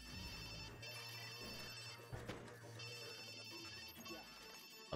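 A hacked conference phone rings in Watch Dogs 2, a steady repeating electronic ringtone pulsing over a low humming game backdrop.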